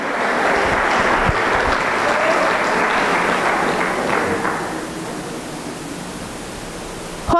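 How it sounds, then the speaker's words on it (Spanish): A church congregation applauding loudly during a Spanish-language service, a dense wash of clapping that holds strong for several seconds, then eases and trails off near the end. "Démosle un fuerte aplauso al Señor en esta mañana."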